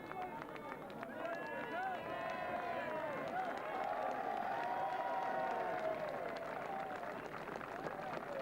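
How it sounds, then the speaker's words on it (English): A racecourse crowd roars and applauds Mystiko's win in the 1991 2,000 Guineas, a dense, sustained swell of cheering and clapping that holds steady and peaks midway with raised voices. "Let's hear the applause."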